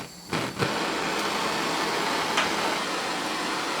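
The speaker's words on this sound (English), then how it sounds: "So we're now going to light the blowtorch." A blowtorch is lit for soldering copper pipe, starting with a brief burst of ignition and then settling into a steady, close roaring hiss that runs on evenly.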